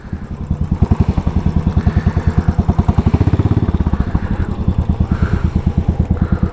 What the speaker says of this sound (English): it's a single cylinder bike, and the thumb from the motor is duk duk duk duk duk